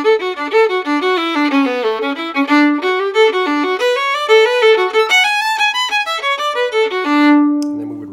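Solo fiddle playing the opening part of Durang's Hornpipe, a quick run of bowed notes in steady hornpipe rhythm, close and clear, ending on a held low note.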